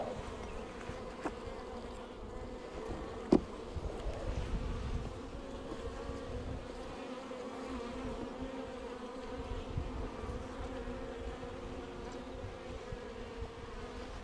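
Honeybees buzz in a soft, steady drone as frames are pulled from a hive, with one sharp click partway through.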